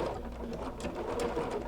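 A sewing machine runs steadily at slow speed, blanket-stitching a fusible shadow applique piece for a friendship quilt, its needle chatter continuous and close throughout.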